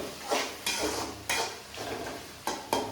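Spices tempering in hot oil in a pan for a home dinner, with bursts of sizzling and stirring scrapes rising and fading several times, close and fairly quiet, no talk.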